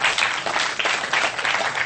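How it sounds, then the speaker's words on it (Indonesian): Large audience at a religious gathering breaks into sustained, dense applause, loud and continuous throughout, with no voices over it. "tepuk tangan yang ikhlas semuanya"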